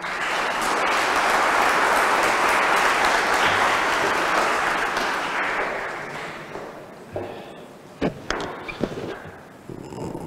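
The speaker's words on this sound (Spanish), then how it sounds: "Un aplauso muy grande para mi madre que está en el cielo" Mourners at a funeral service applaud loudly and densely for several seconds. The clapping then thins into scattered individual claps and trails off, with a few sharp, close hand claps near the end.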